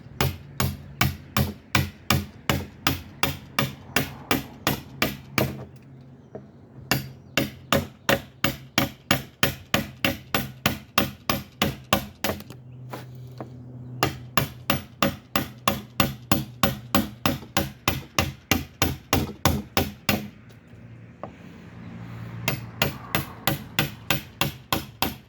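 The underside edge of a slabwood table top being prepped for epoxy is beveled with loud, close, regularly spaced striking blows in long runs, broken by a few short pauses.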